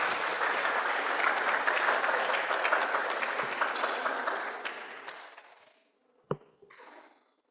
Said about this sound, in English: Let's welcome her with a round of applause